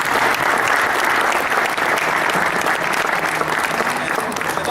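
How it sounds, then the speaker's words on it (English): A gymnastics audience at a Michigan ring presentation gives the parents a full, steady round of applause, dense clapping that holds at an even loudness throughout with a few voices mixed in. "we need to give the parents a round of applause for the effort"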